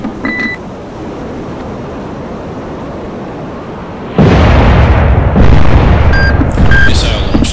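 Battleship Iowa's big naval guns open fire in the submarine game Cold Waters: a heavy deep boom rolls in over a constant wash of sea and engine noise, followed by a second surge and some faint radio-style beeps.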